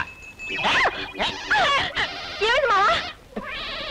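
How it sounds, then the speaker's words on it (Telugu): A dog in a Telugu comedy scene whimpers and yips in a run of high, wavering whines, close and fairly loud, with brief pauses between cries. "అమ్మ కుక్క నిన్న వచ్చావు ఈవేళ వచ్చావు మళ్ళీ తిందామనా రా చెబుతా"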